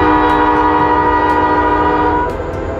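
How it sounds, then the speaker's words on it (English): A passing train sounds its horn in the evening, a loud, sustained, steady blast held for nearly three seconds over the continuous low rumble of the rail cars close by, with no talking. "We got to see the train tonight."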